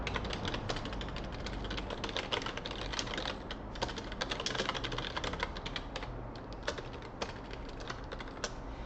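A short greeting typed on a computer keyboard: rapid, steady keystrokes clatter continuously and close up, with no voices.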